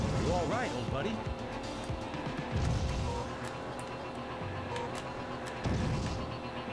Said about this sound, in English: Oh god, skidded!